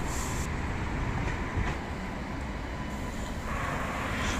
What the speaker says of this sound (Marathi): समोरच ट्रेन आहे. च्या मारी सुटली बघ.